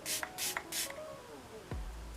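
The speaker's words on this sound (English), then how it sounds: "the mist is just going everywhere" A makeup setting spray bottle is pumped three times, with short breathy mist bursts in quick succession and a softer tail, followed by a low rumbling thud.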